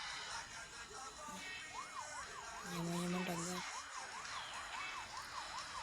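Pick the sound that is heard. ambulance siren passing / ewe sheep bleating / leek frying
ambulance siren passing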